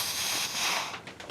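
A Mopar 426 Hemi power unit draws outside air in with a steady, loud broadband hiss that tapers and flutters in its final moments, with no voices.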